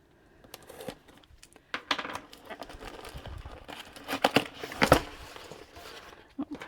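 Plastic packaging of a diamond painting kit with canvases being opened, giving close, irregular crinkling and rustling with a few sharper crackles and taps, moderately loud.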